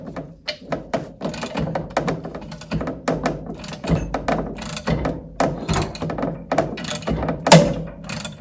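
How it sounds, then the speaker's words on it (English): A bolt puller is tightened by hand against a seized outdrive bearing carrier in a boat lower unit, giving irregular ratcheting clicks and thunks, with one sharp, louder crack near the end. "as I was tightening the puller, it actually cracked the outer portion of the carrier"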